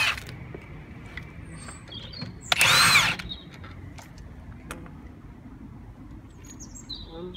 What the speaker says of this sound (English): So now we're gonna loosen all the screws.